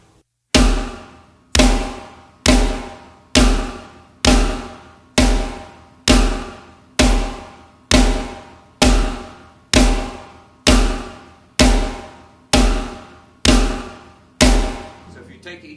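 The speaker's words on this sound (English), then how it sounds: "Quarter notes sound like this." A single drum struck in steady quarter notes, about fourteen evenly spaced loud hits with ringing decays, played alone as a lesson demonstration of note values.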